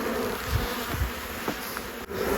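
Honey bees buzz densely at a hive during a May rapeseed honey flow, a steady close swarm drone with a few individual bees passing near, no talking.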